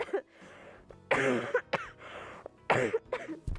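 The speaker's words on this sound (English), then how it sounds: "I keep coughing" A sick person coughs repeatedly nearby in short, harsh bursts separated by brief pauses, with some throat clearing between them.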